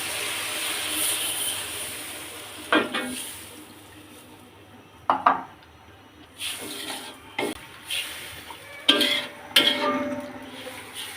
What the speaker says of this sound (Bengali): বন্ধুরা এখন আমি পরিমাণ মতো ঝোল দিয়ে দিব।